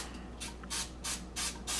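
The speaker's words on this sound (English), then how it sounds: "you know how to work a can of spray paint" Aerosol spray can hissing in bursts while a mold is prepared for rum cake, with four short, even, close sprays in a steady rhythm and no talking.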